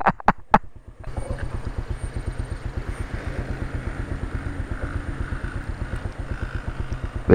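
Honda Cub motorcycle engine idling close by with a rapid, even low putter and faint mechanical clatter, after a few sharp knocks at the start.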